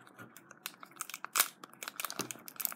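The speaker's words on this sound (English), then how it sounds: "Let's shuffle them up." Pokemon trading cards from a Burning Shadows elite trainer box shuffled by hand, a close run of crisp crackling, rustling and snapping bursts at an uneven pace with no talking.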